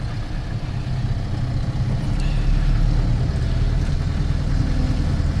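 Engine of a Mahindra Roxor running while it drives, a steady low rumble with broadband road and wind noise, constant and close, no voices.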